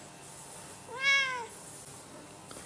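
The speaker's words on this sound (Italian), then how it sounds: "Vi presento Titolo, il gattino paraplegico, e quindi indossa un gonnellino così non si graffia muovendosi" A small paraplegic kitten lets out a single clear meow, rising and falling, in the middle of an otherwise quiet indoor room.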